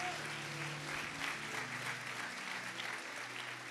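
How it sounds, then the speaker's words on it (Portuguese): A church congregation applauds in steady, dense clapping that fills the room, with a low sustained musical tone underneath at the start. "Dá um aplauso para Ele"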